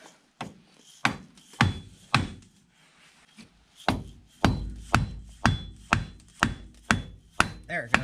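A series of sharp metallic hammer blows on a Nissan Sentra CV axle, about a dozen strikes in a steady rhythm after a few scattered hits, loud and close.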